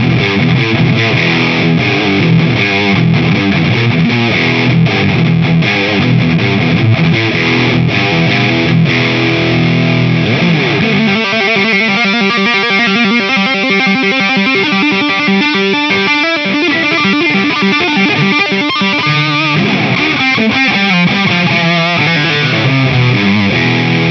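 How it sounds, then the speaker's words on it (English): An electric guitar played through a Boss OS-2 overdrive/distortion pedal with distortion and level turned all the way up, giving loud, saturated, buzzing chords and riffs that ring continuously with no talking. "So really live wire distortion sound"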